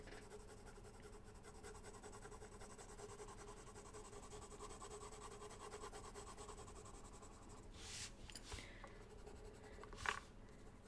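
A Prismacolor colored pencil scratches steadily across paper in soft, faint strokes, with a couple of sharper, louder strokes near the end.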